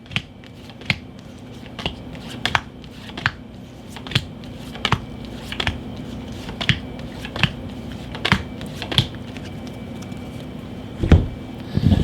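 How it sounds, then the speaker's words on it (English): Chapter cards for the board game Escape the Dark Castle being shuffled, a series of short crisp card snaps and riffles repeating roughly every half second over a quiet tabletop background. "take your chapter cards, shuffle it, and place 15 cards on top of the boss card"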